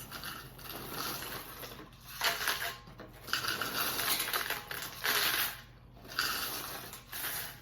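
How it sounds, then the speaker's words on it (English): Rice Chex cereal poured into a bowl for a party snack mix, a dry rattling cascade that comes in several bursts with short pauses between them. "I'm gonna add in 6 cups of rice Chex"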